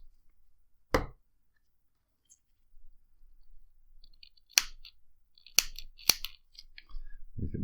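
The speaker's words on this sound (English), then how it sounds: "I've been cutting it more or less to the edge of the base itself" Scissors snip vape coil cotton on a tank base, a few sharp close clicks and cuts spaced apart in a quiet room, with some faint rustling between them.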